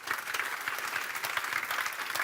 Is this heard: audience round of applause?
yes